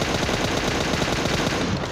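M416 and M762 rifles fire in PUBG Mobile as loud, rapid automatic bursts, dense overlapping shots rattling continuously for about two seconds with no talking.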